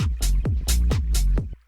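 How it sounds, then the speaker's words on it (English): Tech house looping beat where deep kick thumps alternate with bright, fluttery sampled bird-wing bursts, repeating steadily before stopping abruptly. "it's almost like birds fluttering."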